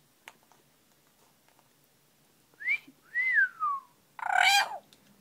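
A parrot gives a few short whistles, one sliding down in pitch, then a harsher squawk-like whistle, in an otherwise quiet room.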